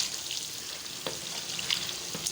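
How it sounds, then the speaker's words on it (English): Meat for a Peshawari charsi karahi fries in a pan with a steady close sizzle, broken by a few short stirring scrapes, and no voices. "a little bit hard, so we have to fry it more"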